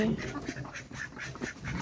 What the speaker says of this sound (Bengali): দেখো সবাই আমাদের হাঁস বের হচ্ছে